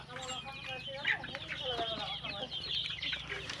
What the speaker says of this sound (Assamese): আৰু ইয়াতেও আছে মুৰ্গী।